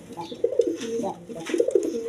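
Low, throaty cooing from a pair of Indian Kaldum pigeons, a female and a male, comes in two rolling bursts close by, each swelling and fading in a soft burbling rhythm.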